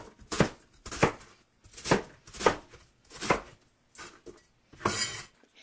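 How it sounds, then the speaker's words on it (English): An onion is coarsely chopped with a knife on a cutting board in a home kitchen. Six or seven crisp, evenly spaced chops land about once every half second to second, close and clear, with no talk. "coarsely chop the onion."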